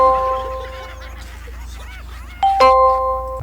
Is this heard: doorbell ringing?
yes